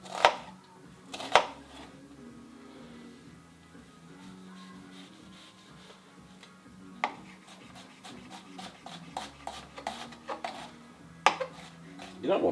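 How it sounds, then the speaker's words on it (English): A knife chops an onion on a board for homestyle chilli mussels: scattered sharp knocks and clatter, then a quick, fairly regular burst of chops later on, all close and without voices. "So just chop the onion."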